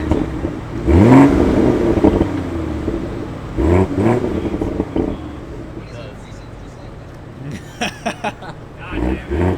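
A mk5 Toyota Supra engine revs in rising bursts, near and loud, as the car is tried for a burnout. Several sharp rev swells are followed by a lower idle, and voices talk throughout.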